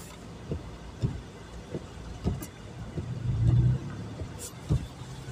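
A car's engine revs and pulls away from a standstill in first gear on a snowy road, the low engine note rising in several short surges, then swelling into a louder, sustained rev before easing off.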